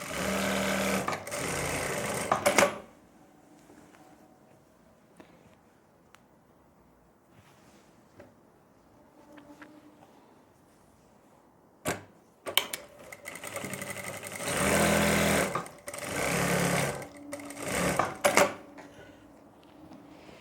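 A sewing machine stitching a kurti at medium stitch length runs in several close, loud bursts at the start and end, with quiet pauses between the runs.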